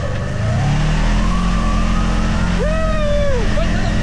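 Kubota RTV XG850 Sidekick UTV engine accelerating, a steady loud mid-range drone with rising whine tones, heard close from the driving seat with wind rush throughout.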